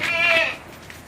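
Goats bleat inside a goat shed, one or two wavering, nasal calls close by in the first half second, then only a quiet room hum remains.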